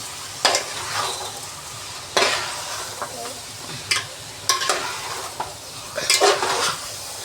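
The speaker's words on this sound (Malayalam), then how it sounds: "നന്നായിട്ടൊന്ന് ഇളക്കി കൊടുക്കാം" Jeera rice and chicken being stirred in a pot, with a spoon scraping and clattering against the metal at irregular intervals over a soft steady sizzle, fairly close.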